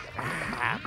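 Cartoon ducks quacking in a Smurfs animated episode, a short burst of several overlapping nasal quacks, fairly close and moderately loud, with no talk over them.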